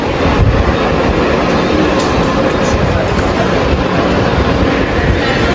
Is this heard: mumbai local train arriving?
yes